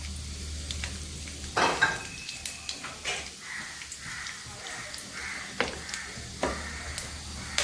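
Whole fennel seeds, cloves, star anise and cinnamon sticks sizzle in hot oil in a pan, with a steady frying hiss broken by sharp clinks and scrapes of a stirring spoon close by.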